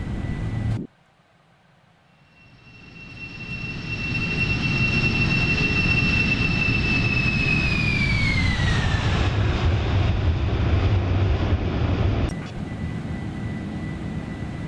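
A Boeing 747-400 with CF6 jet engines in X-Plane 12 spools up loudly from near silence into a sustained roar with a high whine that rises, holds, then slides down, before an abrupt shift in the noise.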